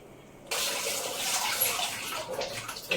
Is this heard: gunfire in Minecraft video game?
no